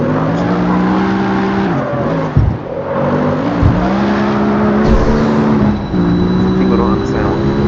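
Carbon Viper SRT race car in the CarX Street driving game, a loud sustained engine drone with harmonic revs shifting up and down, brief dips and tire squeals, close and continuous throughout.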